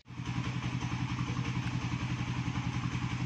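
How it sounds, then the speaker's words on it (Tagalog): A Suzuki Raider 150 Fi motorcycle, just repaired after a water pump oil seal replacement, idles steadily up close with an even, throbbing engine beat and light mechanical clatter throughout. "Tapos na yung motor ni sir. Ayan, umaandar na."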